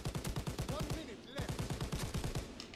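Rapid automatic gunfire in Call of Duty: World at War, a fast even stream of shots that breaks briefly near the middle and then resumes, loud and close throughout.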